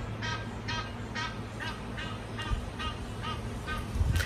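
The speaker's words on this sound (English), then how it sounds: "Okay, I think that's a goose." A goose honks repeatedly in a steady rhythm of about eight or nine calls, moderately distant, over a constant low ambient rumble near the Zambezi River in Zambia.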